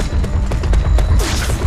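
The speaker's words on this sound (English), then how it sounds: "Grenades. A grenade." A grenade going off in Nosgoth: loud, close booming thuds and crackling blasts in quick succession, ending in a bright burst of debris-like noise.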